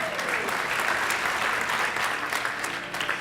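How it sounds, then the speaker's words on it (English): Congregation at a ceremony in the Unity Center, San Diego, clapping together in a loud, dense, sustained round of applause with no talk over it. "You can clap for that."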